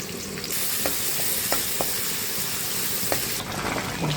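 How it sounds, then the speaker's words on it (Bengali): Chopped onion fries in oil in a wok with a constant loud sizzle, broken by a few sharp clinks of a stirring spoon; close up and without talking. "কড়াইতে তেল দিয়ে দিলাম দিয়ে দিলাম পেঁয়াজ কুচি"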